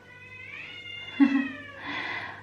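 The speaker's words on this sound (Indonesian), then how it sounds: "Wow, ada kucing." A cat gives one drawn-out meow followed by a rougher, caterwauling cry, close and fairly loud with no talk over it.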